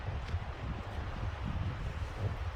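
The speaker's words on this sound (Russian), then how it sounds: "и холодный ветер, и снегопад такой, хоть и тает" Cold wind blowing outdoors during wet, melting snowfall in Lazarevskoye, Sochi, heard as a steady low rumbling gust buffeting the microphone, continuous and fairly faint with no talking.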